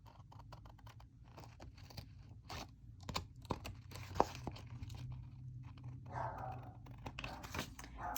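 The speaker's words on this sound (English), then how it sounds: "Sorry, you can hear my dog." A dog nearby makes scattered sharp sounds mixed with quick clicking, crunching and tearing noises, like chewing at something in a quiet room.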